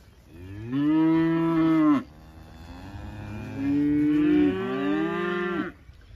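Cattle grazing in a field give two long, loud, close moos, each drawn out for over a second with a short pause between them.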